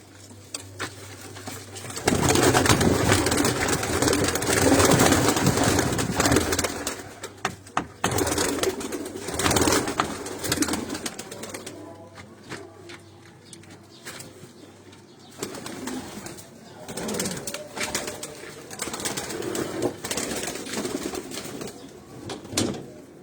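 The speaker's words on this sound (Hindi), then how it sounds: "मैं थोड़े से ये कबूतर बाहर निकाल रहा हूँ।" Pigeons taken out of a breeders' loft coo and stir close by, with soft calls, rustling and occasional wing flutters, loud at times and fading in between, with no one speaking.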